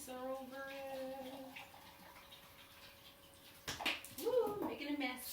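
Kitchen sink water splashing as sea moss is rinsed, starting late and rising in loud uneven bursts, following a steady tonal hum at the start.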